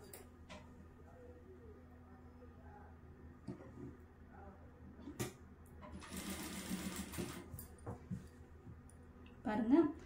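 A sewing machine stitches a blouse neck piece in short bursts, its rapid mechanical chatter rising loudest in the middle, with scattered clicks and handling knocks around it and no speech.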